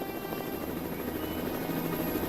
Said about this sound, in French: un hélicoptère maintenant